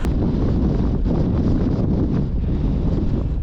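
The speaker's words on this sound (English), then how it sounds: "we've just got the wind trying to roll us back down the hill" Strong wind roars across the microphone on a steep Snowdonia hillside. The buffeting is loud, close and continuous, a dense rumbling rush with no speech.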